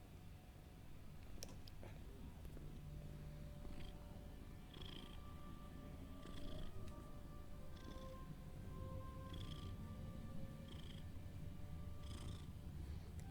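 A cat purrs steadily and close by for the whole stretch, a low continuous rumble under faint room noise, with a few brief higher chirps or squeaks scattered through.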